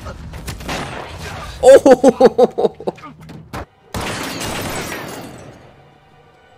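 Gunfire in a Hawkeye episode, a rapid burst of about seven sharp, loud shots followed by a heavy impact and rumbling debris, with a viewer's surprised exclamation and other voices around it.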